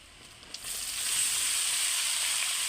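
Cooked rice hitting a hot pan with garlic and chopped green chillies for vegetable fried rice, a short clatter then a loud, steady sizzle that rises and holds close up, with no talking.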